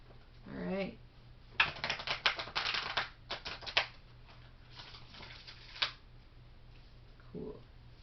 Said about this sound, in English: That was a really nice shuffle.